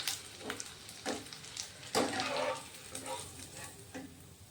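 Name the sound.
potato bhujia frying in oil until crispy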